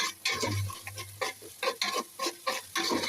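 Garlic paste fries in a pot of khichuri while being stirred, a rhythmic series of scraping spoon strokes over a low sizzle, close and fairly loud.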